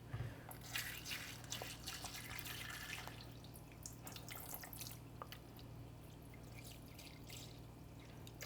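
Water pours and trickles steadily into a container for a phone freeze test, with faint dripping and splashing over a low background hum.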